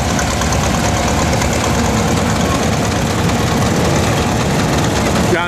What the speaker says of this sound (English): Another orange tractor.